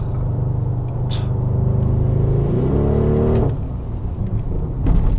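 Audi RS Q8 with a 640-horsepower engine accelerating at full throttle out of a corner, a loud steady roar heard from inside the car and rising in pitch before easing off.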